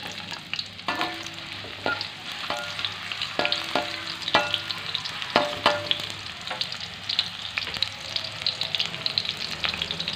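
Onion stir-fries in a pan for a dish of genjer and pete, giving a constant crackling sizzle with repeated sharp scrapes and taps of a spatula on the pan, close and alone.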